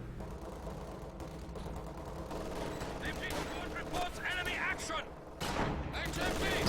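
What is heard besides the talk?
M1 gun firing at a panzer, Company of Heroes 2 video game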